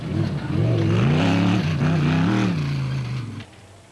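A rally race car in the Sun City 400 desert race speeds past with a loud, sustained engine roar, revs rising and falling before the sound cuts off near the end.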